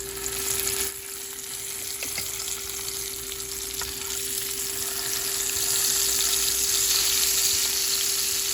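Fish pieces fry in hot oil, giving a steady, loud sizzling crackle that holds throughout, with a faint constant hum underneath.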